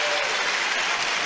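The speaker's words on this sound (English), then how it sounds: "look what a round of applause he gets" An audience applauds a defeated professional wrestler, Fuji Yamada, after a televised match, a dense, steady wash of clapping that fills the whole moment without a break.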